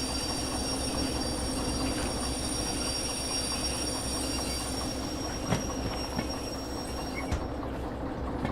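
Locomotive in Derail Valley rolling with its handbrake still on, wheels dragging and squealing along the rails in a steady, continuous grind that fills the whole stretch without a break.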